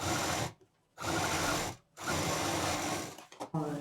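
A sewing machine stitches a patchwork bag strap in loud, close, continuous whirring bursts, stopping twice briefly and then stuttering in short stitches at the end.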